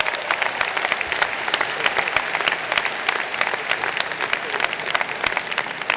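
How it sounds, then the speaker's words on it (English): A large commencement audience applauds in a sustained, dense wash of clapping, loud and steady throughout, with a voice briefly audible in the mix. "Let's have a round of applause for them."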